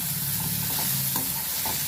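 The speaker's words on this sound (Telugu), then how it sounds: "ఉల్లిపాయ ముక్కలు గోల్డెన్ కలర్ వచ్చేంత వరకు వేయించాలి." Chopped onions fry in a pan with a steady, close hiss of sizzling oil and occasional soft stirring scrapes, with no voices.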